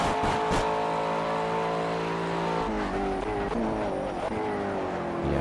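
Race car engines in Project CARS whine loudly in steady sustained tones, a McLaren ahead on track, with pitch shifts and a brief rough burst near the start, no talking.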